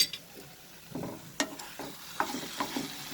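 Eggplant bharta mashed with mustard oil and salt cooking in a pan, giving a soft, steady sizzle broken by several short scraping stirs of a spoon against the pan.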